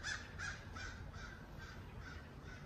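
Crows caw repeatedly in a regular series of harsh calls, faint and distant over a steady background hiss.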